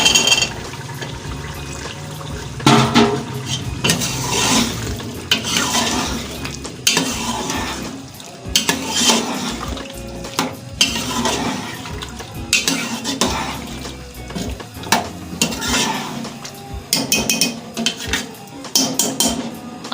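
Arvi (taro) is stirred in ghee in a metal pot, with repeated scraping and clanking of a spoon against the pot over a soft sizzle. The sound is close and busy, coming in irregular bursts throughout.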